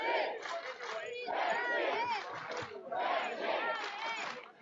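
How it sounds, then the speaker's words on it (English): A packed arena crowd at a Czech Republic versus Israel medieval combat bout roars and chants wildly in surging waves, loud and close, with three swelling bursts of yelling. "listen to the crowd now going absolutely crazy for the Czech Republic"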